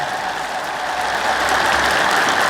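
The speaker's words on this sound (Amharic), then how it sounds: "በደንብ አድርጋችሁ ሰይጣንን አናዱ፣ አጨብጭቡ።" A church congregation claps together during a sermon, producing a dense, steady roar of many hands that grows slightly louder toward the end, with no talking over it.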